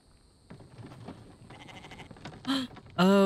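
A goat in the survival video game The Infected bleats twice, loud and close, after a stretch of footsteps and rustling.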